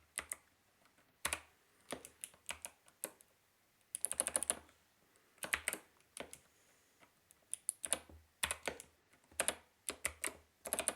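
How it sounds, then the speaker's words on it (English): Typing on a computer keyboard during a hacking practice session, close and quiet, with irregular bursts of rapid key clicks separated by short pauses. "Yeah, typing is hard."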